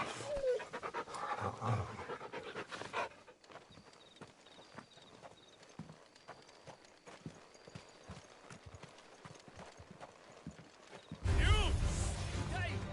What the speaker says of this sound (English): What a fine hound.